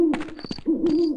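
Owl hooting sound effect in the Half-Life mod They Hunger, a steady low hoot repeated twice with a brief break, clear and alone in a quiet night ambience.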